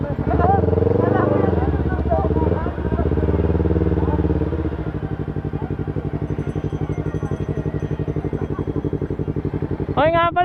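A Yamaha R3 motorcycle with an Akrapovic muffler, its engine rising in a loud rev and then settling into a steady, throbbing idle, heard close up while people talk nearby.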